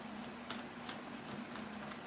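Tarot cards are shuffled for a reading, giving soft papery riffles and a few sharper snaps over a steady low hum, with no one talking.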